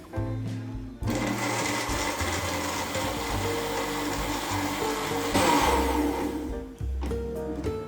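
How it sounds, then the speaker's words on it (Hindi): A kitchen blender whirs loudly and steadily as it purées dates and milk into a milkshake, with a short startup at the beginning and a brief change in pitch near the end. "इसे 3 से 4 मिनट के लिए ना ब्लेंड कर लेते हैं अच्छे से, ताकि खजूरें वगैरह सारी अच्छे से मैश हो जाए"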